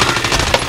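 Rapid automatic gunfire in Call of Duty: Modern Warfare, a short loud burst of several closely spaced shots with a sharper crack near the end, very close and alone.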